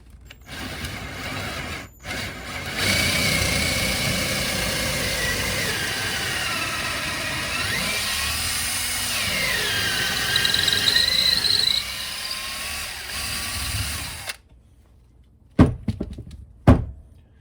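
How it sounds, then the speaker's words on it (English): Power drill boring large holes into the broken wooden stub of an axe handle lodged in the axe head, a steady droning whine that runs continuously for several seconds and shifts in pitch under load, then stops abruptly, followed by a couple of knocks. "Start off slow and just bore some big old holes in there"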